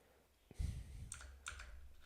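Typing on a computer keyboard, a quiet cluster of soft key clicks and presses in quick succession, close and brief.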